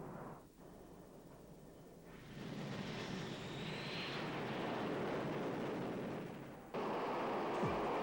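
A Grumman A-6 Intruder tanker jet with underwing tanks flies overhead, a broad jet roar that swells in loudness, with a sharp jump near the end, no voices.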